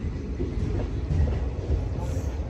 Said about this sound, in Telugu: మన ట్రైన్ వచ్చింది